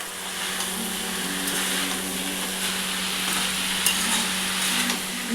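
Boiled banana flower with ginger paste and chopped green chilli fries in a pan, producing a steady loud sizzle with intermittent stirring scrapes.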